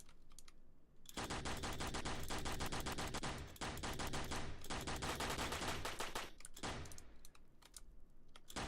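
Rapid-fire weapon bursts from a ship in the video game Aeroboticar: Uprising, with loud sustained volleys broken by brief pauses and no talking.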